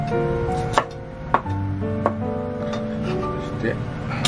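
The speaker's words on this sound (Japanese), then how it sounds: "クレソンの葉は 薄切りにします。" Knife slicing watercress leaves on a board: a handful of sharp, separate taps spaced irregularly, heard beneath a person talking and faint background music.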